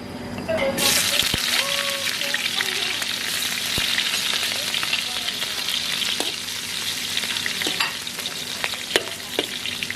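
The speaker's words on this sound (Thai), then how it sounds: "ไปผัดกันเนาะเครื่องผัดเขามะเพ็ดกระเทียมหอมแดง" Mushrooms being stir-fried with chili, garlic and shallots, a steady loud sizzle with stirring scrapes and clinks of a utensil against the pan throughout, faint talk in the background.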